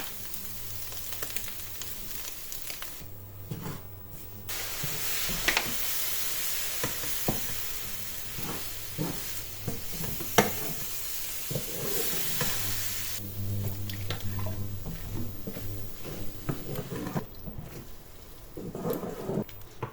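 Rice flour being stirred into a sizzling pan seasoned with salt and garlic powder, with steady frying hiss and scraping stirs running continuously at moderate, close volume.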